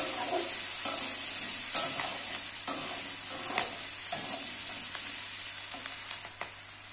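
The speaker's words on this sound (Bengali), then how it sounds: "কাঁচা লঙ্কাটা ভেজে নেব কাঁকড়ার সাথে ভালো করে।" Green chillies frying with crabs in hot oil in a home kitchen, giving a steady close sizzle. A utensil stirs and scrapes the pan at intervals, and no one speaks.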